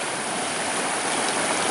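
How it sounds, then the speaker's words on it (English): Rushing creek rapids make a steady, dense, close hiss of flowing water with no pauses. "Right into the creek, right into the rapids."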